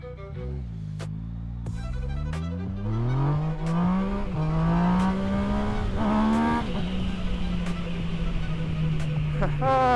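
Naked motorcycle with a fire-breathing exhaust pulls away in first gear, its engine note climbing steadily with rhythmic pulses over about ten seconds, loud and close, with a voice talking over part of it.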